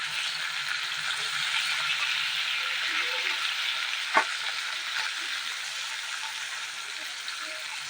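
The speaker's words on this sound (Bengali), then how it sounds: "তেলের ভিতর এবার একে একে সমস্ত মাছগুলো ভেজে নিই।" Bata fish fry in hot oil in a wok with a steady, close sizzling hiss throughout, broken once by a single sharp clink.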